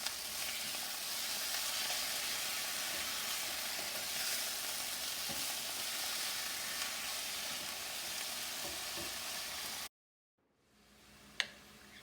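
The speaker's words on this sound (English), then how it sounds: "when chicken is frying in a bowl" Chicken strips fry in a pan over increased gas heat for chilli chicken, giving a steady, even sizzle for about ten seconds before it cuts off abruptly to near silence and a single soft knock.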